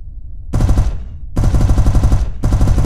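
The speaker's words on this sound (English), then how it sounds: "Now activate your turret's weapon group." Turret weapons in the space game Space Bourne 2 fire at a target in three sustained rapid-fire bursts, loud and close with short gaps between them, no talking.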